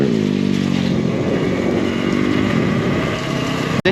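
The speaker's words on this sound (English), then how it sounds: "He's just going to give it a quick burn down the road" An electric Talaria pit bike running a high-power 45 kW battery gives a quick burn down the road, with a loud, steady motor whine and road rumble that holds throughout before cutting off abruptly at the end.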